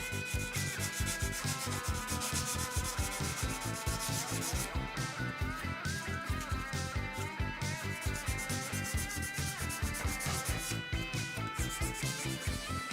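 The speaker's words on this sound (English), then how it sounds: "Polishing time." Steady, fast back-and-forth rubbing strokes fill the whole stretch as a replica guitar body for a Rory Gallagher tribute is polished by hand, a close, continuous scrubbing texture with no voices.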